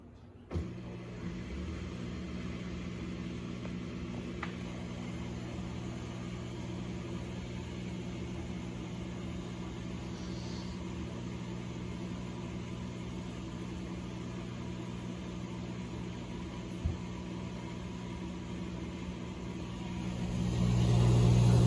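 An Amana dishwasher runs steadily after being started, a constant low hum and motor drone with faint whooshing water, holding an even level for about twenty seconds before rising slightly at the end.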